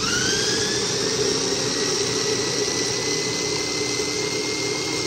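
Strawberry sauce mixture being beaten smooth with a mixer, a loud, steady, close motor whine that runs unbroken throughout, with no talking.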